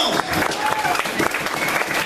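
A church congregation claps in a brief burst of loud, dense applause during a sermon, with voices mixed into the clapping.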